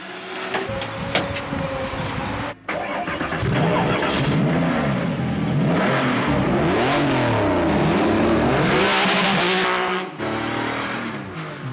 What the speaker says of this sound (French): Dès les premiers tours de roue, on est surpris par les accélérations très vives, mais aussi par l'important couple à bas régime qu'offre la 996